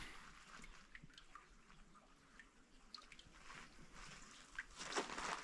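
Water trickles down a rocky hillside wall into a creek in rugged woodland. It makes a faint, continuous wash with scattered drips and splashes, and grows a little louder near the end, with no voices.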